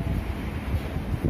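Strong gusting wind roaring steadily outdoors in Taiwan on the eve of New Year 2021, a broad continuous rumble with buffeting against the microphone and no voices.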